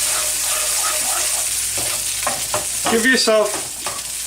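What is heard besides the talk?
baby bok choy with ginger frying in a pan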